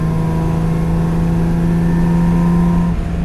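A 1958 AC Aceca coupe engine drones loudly and steadily from inside the closed cabin, holding a high rev with a brief dip near the end.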